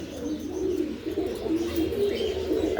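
Andalusian racer pigeons coo softly in a home pigeon loft, a low continuous rolling murmur close by with no speech.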